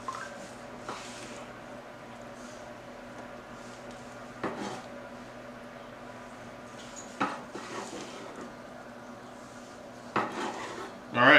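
A knife works through a sliced smoked tri-tip roast on a board, giving quiet intermittent scrapes and taps over a low hum, with a louder clatter at the end.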